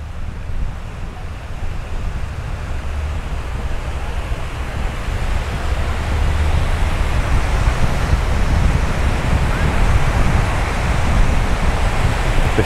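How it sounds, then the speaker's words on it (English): Choppy sea waves roll onto a warm tropical beach at Jomtien, Pattaya, Thailand, a steady loud wash of surf mixed with wind buffeting the microphone, with no voices. "The sea is a little bit choppy."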